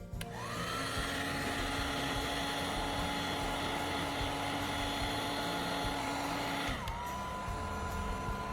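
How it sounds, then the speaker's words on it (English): A heat gun blows with a steady, loud whirring roar for about six seconds as it softens the edge of a hole in soft plastic pipe, then winds down, close-up with no voices. "I'll use a heat gun around the edge of the hole to soften the material first"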